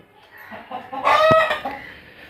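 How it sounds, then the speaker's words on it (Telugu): A chicken near a house squawks loudly in one brief, harsh burst, close to the listener, with faint clucking before it and no other sound. "మా కోడి నన్ను మాట్లాడనివ్వట్లేదు, కనీసం అరుస్తుంది"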